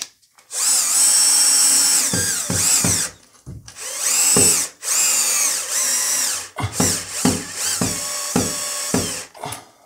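A Festool cordless drill driving screws to fix a shower holder to a bathroom wall, close and loud, in several whining bursts of varying length separated by short pauses and clicks.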